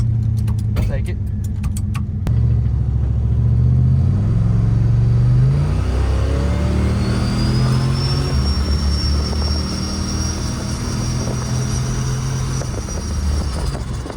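Turbocharged police car engine built to over 550 hp, revving hard toward 5,500 RPM: a loud, sustained low roar with rising and falling harmonics as the revs climb, plus a whistling turbo-like tone, heard close and without speech.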